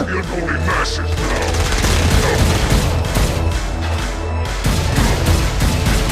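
Battle gunfire in the video game Saints Row Gat Out of Hell, a loud continuous fusillade of rapid shots and booms with crashing impacts, close and dense throughout.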